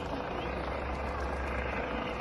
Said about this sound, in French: Alors vous avez l'hélicoptère et là vous avez les grenades lacrymo.